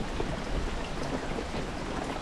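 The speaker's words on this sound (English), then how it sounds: "It's still raining." Steady rain falls outdoors beside a tidal creek after heavy downpours, a dense continuous hiss and patter with no voices.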